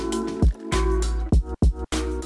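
Water dispenser filling a cup in a video game, short gurgling and squishy liquid sounds with sharp drop-like plops, close and clear, broken by brief silences.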